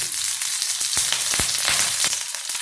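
Curry leaves, chopped garlic, ginger and slit green chillies sauté in hot oil, giving a loud, continuous sizzle with occasional crackles and stirring.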